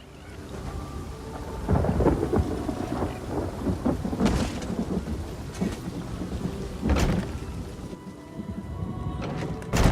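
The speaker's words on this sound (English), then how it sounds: "Now there's a new storm brewing, and I fear they're the cause of it." Thunderstorm in Elder Scrolls Online: Morrowind, with steady rain on surfaces and several rolling thunder cracks at intervals, loud and close, no voices.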